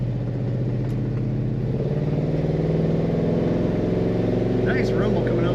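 A 1968 Oldsmobile Cutlass S convertible with its top up, its V8 exhaust rumbling steadily from the tailpipe at close range, a low, even idle throb that swells slightly partway through.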